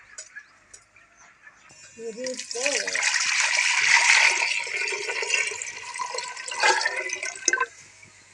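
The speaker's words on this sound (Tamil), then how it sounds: "ரெண்டு லிட்டர் தண்ணி ஊற்றிக்கோ." Two liters of water pour steadily into a pot for several seconds, a broad rushing splash that builds and then trails off, with brief clinks at the start.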